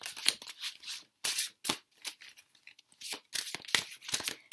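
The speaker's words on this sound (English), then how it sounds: "these cards are a little bit hard for me to shuffle because my hands are quite tiny" Thin tarot cards shuffled by small hands, giving a string of close, crisp papery slaps and flutters in uneven bursts separated by brief quiet gaps, no speech.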